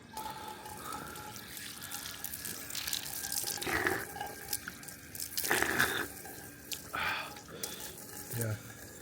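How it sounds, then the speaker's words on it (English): Water running from a public drinking tap near Kotor Fortress in Montenegro: a faint, steady trickle with splashing bursts as it is drunk from or interrupted, with people talking quietly nearby. "So I'm going to drink some water from the tap of Kotor."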